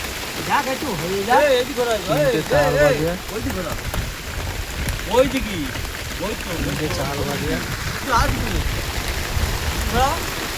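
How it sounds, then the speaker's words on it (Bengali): Steady rain from an outdoor storm in Bhangar, heard from a shelter, forms a constant hiss in the background while a person talks over it throughout. "এই মুহূর্তে দেশে বৃষ্টি আর ঝড় উঠেছে।"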